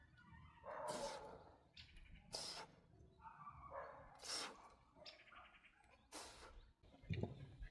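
Several dogs at a village home bark in sharp, scattered bursts, some closer and louder than others, with brief gaps between volleys.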